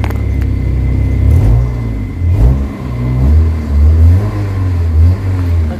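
A Kia Pride engine with white smoke, vibration and low power revs up and down in several loud, close surges, rising and falling in pitch with no talk.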